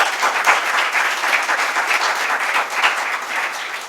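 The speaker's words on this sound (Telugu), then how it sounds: "చప్పట్లు కొట్టుండ." A church congregation gives loud, sustained applause during a Telugu Christian sermon. Dense clapping from many people continues steadily for several seconds with no speech over it.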